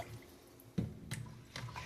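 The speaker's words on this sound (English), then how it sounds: "I'm just going to keep doing this here until I can actually see my rice through the water" Rice being rinsed in a bowl of water, with three soft splashing, swishing bursts spaced about a third of a second apart over a quiet background.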